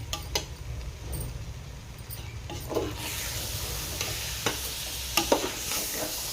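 A spoon stirs crispy egg biryani in a pot with a low sizzle underneath, scraping and occasional clinks against the metal, steady and close with no voices.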